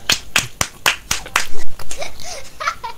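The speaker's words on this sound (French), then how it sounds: "Ah, applaudis." Several sharp hand claps in quick succession open the scene, followed by laughter and brief vocal sounds, all fairly close and loud.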